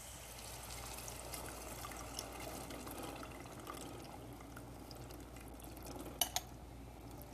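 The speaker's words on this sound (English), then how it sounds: "I'm going to go ahead and put them now into the sautéed onions" Cooked black beans in their cooking liquid pour into a pan of sautéed onions, a soft, steady wet trickle and slosh with a couple of brief louder clinks near the end, fairly quiet and with no talking.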